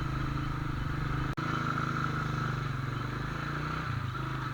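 Honda CG 150 motorcycle engine idling and revving with small throttle changes, a close, continuous low putter with a brief dropout partway through and a slight shift in tone near the end.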